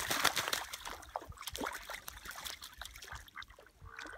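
Ducks splash and play in a large puddle, giving quiet, uneven watery splashes and trickles close by.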